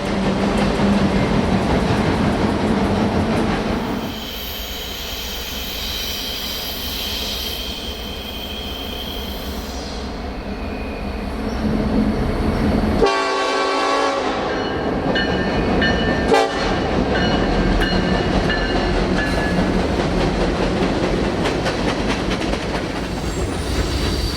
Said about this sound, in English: The first was a westbound stack and rack train led by a solo ES40 DC.